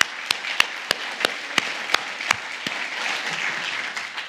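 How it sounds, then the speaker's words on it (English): An audience gives a round of applause, with sharp individual claps standing out at a steady rhythm before blending into a denser, softer patter of clapping. "We'll give you a round of applause."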